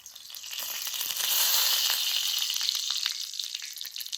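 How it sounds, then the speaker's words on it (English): Eggs sizzle and crackle loudly on a hot duck blind cooktop alongside bacon, a dense, bright frying hiss with scattered pops throughout. "Now we're going to throw the eggs on here,"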